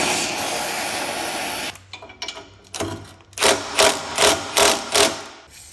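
An impact gun on a reduced setting works torch-heated exhaust nuts on a 2005 Porsche 997 Carrera. After a stretch of hissing, five short, loud rattling bursts come in quick succession, close by.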